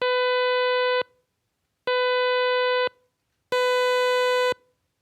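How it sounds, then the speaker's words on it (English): A synthetic sawtooth tone whose harmonics have randomly scrambled phases, played as three separate steady buzzy bursts about a second long each, with short silences between them. The last burst is brighter, and nothing else is heard. "the totally scrambled phases sound like this"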